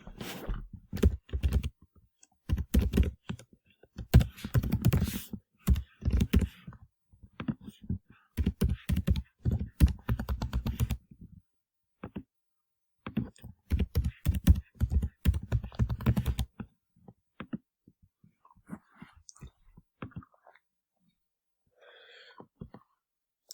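Fingers type on a computer keyboard to fill in a sign-up form, with fast, close clattering keystrokes in dense bursts separated by short pauses, which thin out to a few isolated clicks and then quiet.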